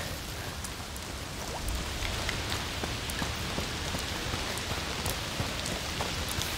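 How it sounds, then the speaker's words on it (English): Steady rain falls in A Plague Tale: Requiem, a dense, even patter of drops on surfaces with occasional sharper splashes, continuous and fairly quiet. "Foul rain."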